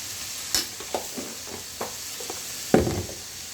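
Cumin and coriander paste frying in hot oil keeps up a close, steady sizzle, broken by scattered stirring knocks and scrapes, and one louder clatter near the end.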